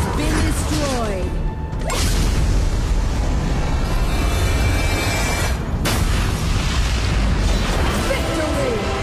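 A tower being destroyed in Arena of Valor, a sustained loud rumbling crash of blasts and debris with whooshing effects, continuous through most of the stretch amid dense game sound and a voice announcement.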